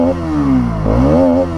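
A 2024 Bajaj Pulsar NS 200 with a liquid-cooled 199.5cc engine gives a short, close rev, its throaty note dipping and then swelling back up in one quick throttle blip.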